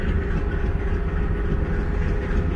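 The Tren Patagonico passenger train rumbles close by in Rio Negro, a steady heavy low roar with a faint rhythmic clatter of wheels and no voices.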